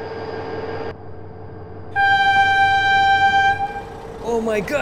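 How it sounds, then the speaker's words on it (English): A train in the BeamNG driving game sounds a loud, sustained two-tone horn over rumbling wheels on the rails, following a steady engine drone. A voice exclaims near the end. "Oh my God, train!"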